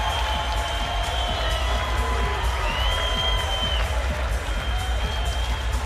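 A home crowd at the Pyramid cheers during a Long Beach State men's volleyball championship match against UCLA, a dense, steady roar of voices and clapping that holds at an even level throughout, with faint whistle-like tones above it.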